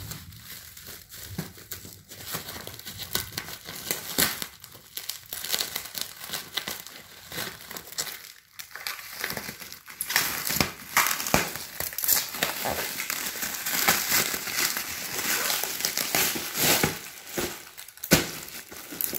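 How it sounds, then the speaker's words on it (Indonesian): Packaging crinkles and crumples while a 50-liter army-green waterproof travel dry bag is unboxed, with steady close rustling and sharper crackles throughout, no talking. "kita kedatangan lagi sebuah barang yaitu sebuah travel bag waterproof ya untuk adventure. Coba kita unboxing."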